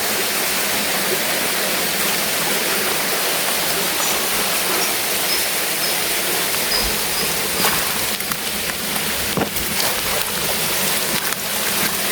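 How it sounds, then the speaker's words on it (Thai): Steady, full-bodied roar of a forest waterfall, loud and continuous throughout with no pauses, a dense wash of falling water filling the whole scene. "นี่จุดน้ำตกเลยนะ"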